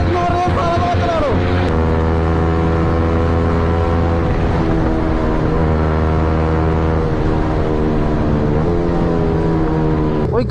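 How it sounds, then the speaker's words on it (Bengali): A four-wheeled car races along a road beside superbikes, its engine droning loudly and continuously with shifting pitch as it revs and accelerates, heard up close and steady throughout. "ওই গাড়িটা রেস করছিল"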